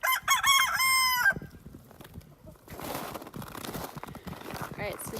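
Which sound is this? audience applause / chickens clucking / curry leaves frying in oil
chickens clucking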